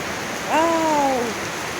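Steady, dense hiss of rain pouring down, with a brief rising-and-falling tonal call partway through.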